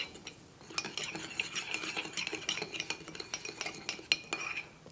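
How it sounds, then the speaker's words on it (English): A spoon clinks and scrapes against a bowl while stirring a fish marinade with chili flakes for Persian-style grilled fish, giving quick, repeated metallic taps in an uneven rhythm, close and clear. "now we're gonna stir this together"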